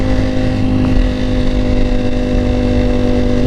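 A motorcycle engine runs loud and close while being ridden, a steady throbbing drone with slight rises in revs and no voices over it.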